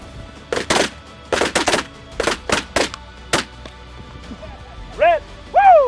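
Hunters fire a rapid string of sharp, loud gunshots in quick bursts, some close together, followed by a few shouted voices and animal-like calls near the end.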